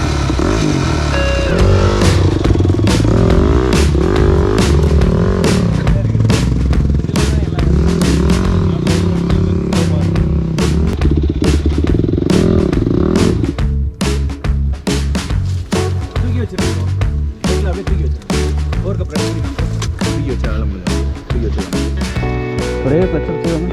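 A motorcycle on an off-road trail revs hard and steadily, its loud engine droning throughout, with a shift to a rougher, pulsing idle partway through and a person talking alongside.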